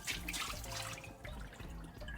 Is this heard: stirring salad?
no